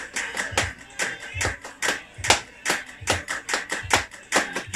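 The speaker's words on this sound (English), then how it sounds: "Listen for the claps at the beginning." Rhythmic hand claps in a song repeat in a steady groove over a thumping beat, about two claps per second, fairly close and punchy.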